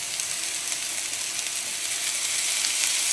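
Light soy sauce hits a hot pan during stir-frying for chicken chilly, giving a steady, close, bright sizzle with faint stirring scrapes and no talking.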